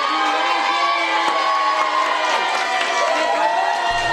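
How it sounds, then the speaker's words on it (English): A crowd of students and colleagues stands and cheers for a surprised honoree, giving steady loud whooping and shouting across the whole stretch with no pauses. "It's still a surprise to Des Perkins when people stand up and cheer for her."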